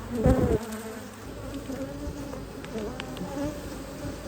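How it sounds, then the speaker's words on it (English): Dense, steady buzzing of many honeybees around a hive fills the air, with a few thuds near the start and individual bees droning close by. "I think these bees have been busy"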